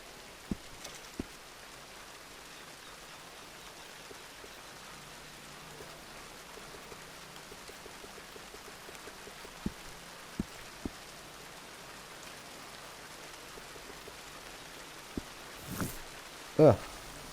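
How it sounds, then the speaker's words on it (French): Rain falls steadily in the video game Red Dead Redemption as a soft, even patter, with a few sharp clicks and a brief louder rustle near the end. "Ah bah il pleut."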